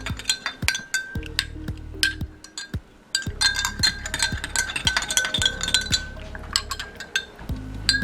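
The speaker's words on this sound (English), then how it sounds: "mix that in really good till it's melted" A teaspoon stirs coconut oil into a homemade fat-burning tea, clinking against the glass in quick, irregular taps with short pauses between bursts. The sound is close and bright, with no voices.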